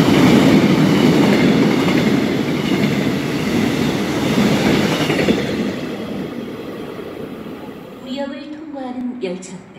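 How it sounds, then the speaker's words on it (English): Loud rumbling roar of a non-stopping train rushing through Myeonghak Station in South Korea, with rattling wheels that fade as it leaves, followed by a brief announcement voice. "This train will not be stopping at this station."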